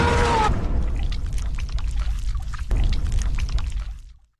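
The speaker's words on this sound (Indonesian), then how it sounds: "Jennifer langsung memberikan soda api yang akan membuat wajah Andy menjadi terbakar" Caustic soda poured in a film scene, a steady loud pouring splash that starts with a bright burst and runs continuously for several seconds before cutting off.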